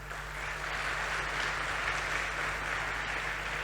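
An audience at a poetry recitation event applauds steadily, with dense, sustained clapping that stays even throughout and a low hum underneath.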